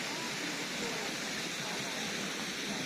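Steady rushing water from the cascade in the grounds of Linderhof Palace, a dense continuous roar with no breaks, close and even throughout.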